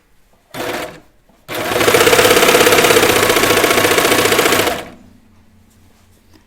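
A sewing machine hems a rolling knit T-shirt edge: a brief burst, then a loud, steady run of rapid stitching lasting about three seconds that winds down to a low hum, with no talk.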